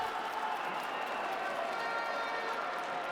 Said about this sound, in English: With their fans are cheering for them